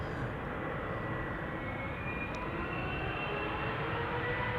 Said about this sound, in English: This is KLM flight 591 going to Johannesburg in South.